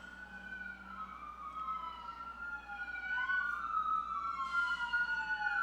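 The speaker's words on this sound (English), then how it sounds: "Actually, it's an ambulance." A wailing ambulance siren rises and falls, growing louder as it approaches, with a low traffic hum underneath.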